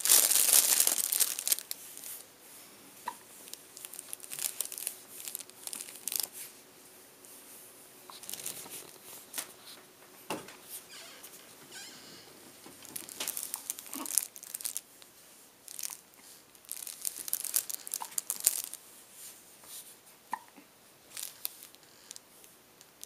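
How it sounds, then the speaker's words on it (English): A crinkly baby toy rustles and crackles in bursts as it is squeezed and pushed by toes, quiet scattered crinkling with short pauses throughout, no talking. "Can you make the crinkle noise with your toes?"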